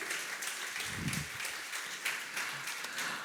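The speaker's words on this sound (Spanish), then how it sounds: "dale palmas, palmas, palmas al rey" Congregation at a church service clapping hands together in praise, a dense sustained wash of many hands across a large room, steady and fairly loud with no talk.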